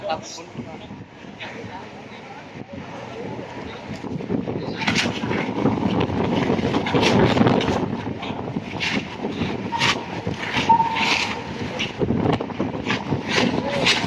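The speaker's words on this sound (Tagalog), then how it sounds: "Malakas pa hangin mga kapatid" Strong wind buffets the microphone in a steady, rumbling roar that swells and gusts throughout, with voices talking underneath, at the Marikina River where people are fishing.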